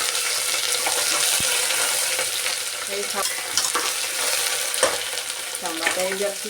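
Chili, ginger and garlic paste hits hot oil with crisped peanuts in a pan, a loud, dense sizzle with spoon scrapes and clinks throughout.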